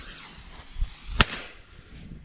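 A single firecracker bangs once, sharp and fairly close, after a few smaller pops, set off outdoors during a Christmas cracker display.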